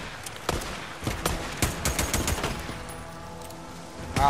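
Rapid bursts of gunfire crack through a firefight in the video game Days Gone, sharp repeated shots in irregular clusters, fairly faint overall with a louder blast at the end.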